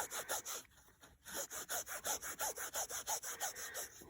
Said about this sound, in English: I'm gonna give it the old pants rub.